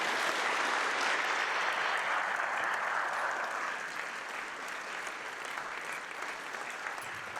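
Audience at a film premiere in a theatre applauding as the director comes on stage, a dense, sustained wash of clapping that stays loud and even, then eases slightly toward the end.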